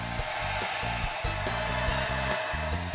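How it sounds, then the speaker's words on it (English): A blow dryer runs continuously on styled hair, a loud steady whirring roar with slight wavering as it moves, heard close and without talk. "hit it with the blow dryer"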